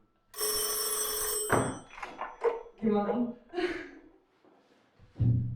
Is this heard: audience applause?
no